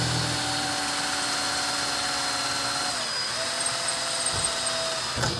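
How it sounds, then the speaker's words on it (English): A power drill whines steadily at close range, its pitch dipping briefly as it bites into material while drilling a pilot hole to mount a skid plate, then running on before stopping. "we'll go ahead and make a pilot hole"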